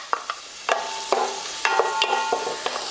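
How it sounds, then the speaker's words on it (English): Onions sautéing in hot olive oil in a pot for shakshouka give a soft, steady sizzle, broken by several sharp clinks and scrapes of stirring against the pot. "We're gonna just saute the onions."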